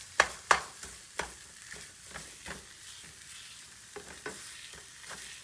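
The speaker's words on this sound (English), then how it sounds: "And we cook it so it's nice and brown." Chopped chicken sausage fries in a pan with a soft, steady sizzle, broken by a few sharp clatters and stirring scrapes early on, fairly faint and close with no talk.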